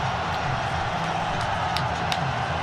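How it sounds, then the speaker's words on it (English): Crowd at a T20 World Cup cricket semifinal between Pakistan and New Zealand, a steady dense roar of many voices filling the stadium, broad and continuous with faint cheers rising briefly near the end. "Listen to the crowd."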